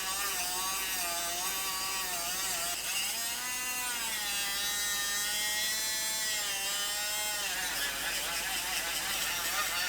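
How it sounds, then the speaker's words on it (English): Angle grinder cutting through spot welds on the outer A-pillar panel of a car, a loud continuous high-pitched whine with slight pitch wavering as the disc bites into the steel, steady throughout. "We'll grind off the spot welds."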